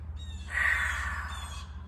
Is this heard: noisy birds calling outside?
yes